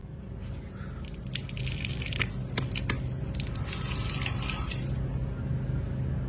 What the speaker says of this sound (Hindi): ये देखो पानी बह रहा है, अभी पानी आया हुआ। ये नल पता नहीं किसने छोड़ दिया खुला।